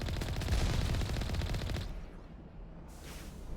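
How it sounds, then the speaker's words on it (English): Sniper rifle fire in Mass Effect Legendary Edition, a dense, rapid burst of loud sharp shots for nearly two seconds, then a quieter stretch of rumbling ambient sound with faint noise. "they're shooting me from really far away"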